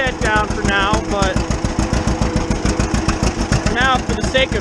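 An old Model A tractor engine runs close and loud with a steady, rapid chugging pulse, while a voice talks over it.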